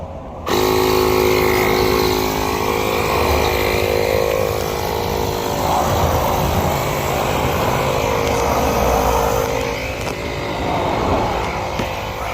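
A portable air pump runs steadily and loudly to inflate a tire on a 1994 Newmar Country Air RV, a continuous motorized drone with a layered hum that holds alone for about twelve seconds after a sudden start.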